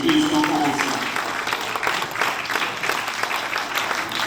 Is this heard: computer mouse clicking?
no